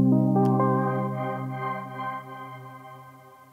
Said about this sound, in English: As you can hear, we get a lot of different grains following the signal.